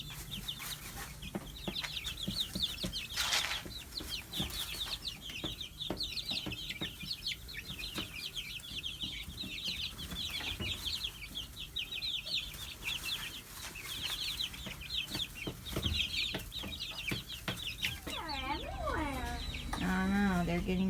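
Backyard chickens and young chicks cluck and peep steadily at close range, a busy chorus of short repeated calls, with people talking quietly in the background.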